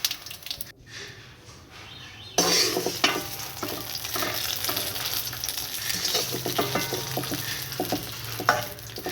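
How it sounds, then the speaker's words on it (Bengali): Dried red chillies and cumin seeds sizzle loudly in hot oil for a village-style tempering, a quieter stretch giving way to a sudden burst of crackling and spitting that continues steadily to the end. "এবার ফোড়ন দেওয়ার পালা, ফোড়নের জন্য শুকনো লঙ্কা আর জিরা।"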